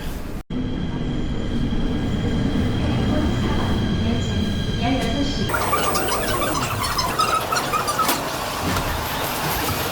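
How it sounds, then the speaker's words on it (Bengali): A KTX high-speed train in motion, heard from inside as a steady loud rumble and hum of the carriage, with a brief interruption near the start and a brighter rattling, clattering texture in the later half as it slows toward a station. "আমাদের আইটিএক্স কেটিএক্স ট্রেন আছে আমরা সেই ট্রেনে করে এখানে যাওয়ার চেষ্টা করতেছি"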